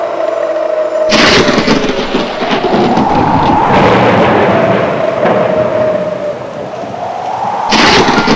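Loud, rolling thunder in a storm, with sharp cracks at the start and end and a long rumbling roar in between, with no voices.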